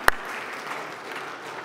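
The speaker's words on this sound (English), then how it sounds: "clap a couple times." A congregation at a Sunday church service claps briefly, one sharp clap standing out at the start before a short, softer wash of scattered clapping.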